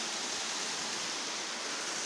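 Water in a mountain stream rushes steadily, a continuous broadband hiss with no pauses or voices.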